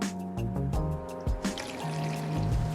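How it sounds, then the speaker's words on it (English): Excess brake fluid poured from a container back into its bottle during a DIY brake flush, a short close-up gurgling trickle and splash. "all the excess that we've got in here we can pour back into the bottle"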